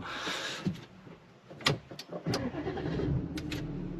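An Audi A5 3.0 TDI diesel with a stage 1 tune is started for the first time. A few close clicks and clunks come from the cabin, then the low rumble of the engine catches and builds at the end.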